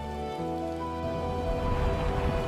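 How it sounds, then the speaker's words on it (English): Rain falls with a soft, steady patter that swells in over a gentle sustained musical tone and grows denser toward the end. "The first drop of rain, touching Ravi's face with"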